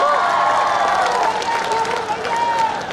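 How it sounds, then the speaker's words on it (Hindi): An audience claps steadily at a live stage show in Jaunpur, dense continuous applause with cheering rising and falling under a singer's voice. "Come on everybody, जोरदार ताली।"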